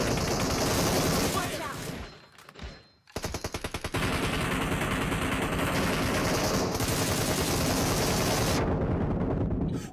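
Dense automatic gunfire in PUBG Mobile roars loudly and continuously, drops out briefly near the middle, then returns as rapid bursts and steady fire until it cuts off near the end.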